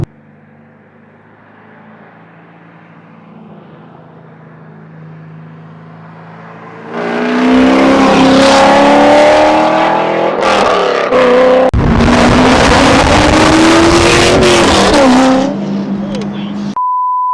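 A C5 Corvette fitted with Speed Engineering headers revs hard and loud nearby, several sharp throttle blips rising and falling over a steady idle, then settling back down.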